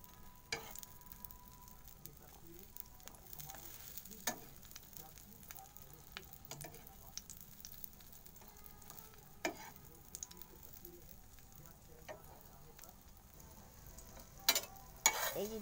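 A flipped egg omelette fries quietly in oil in a kadai, giving a faint, soft sizzle with scattered light crackles and a few sharper clicks of a utensil against the pan.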